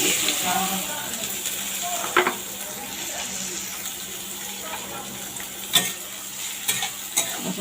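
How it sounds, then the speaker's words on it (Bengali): Chopped onions fry in hot oil in a wok, a continuous close sizzle with occasional sharp spatula scrapes and knocks against the pan. "পেঁয়াজটাকে ভালোভাবে ভেজে নিব"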